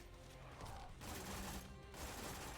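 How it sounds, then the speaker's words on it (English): Rapid bursts of video game weapon fire from a snowbound multiplayer match, steady and dense throughout with brief dips between volleys, heard fairly faint and without talk. "All weapons kind of just burst fire at all times, though."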